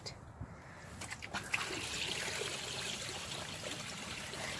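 Water runs from a hose into a horse water trough on a farm, a steady close rush and splash that continues without pause after a few faint knocks at the start.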